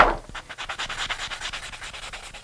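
A sanding sponge is rubbed back and forth over the painted rim of a clay pot, making a rhythmic, close scratchy rasp with regular strokes and no talking.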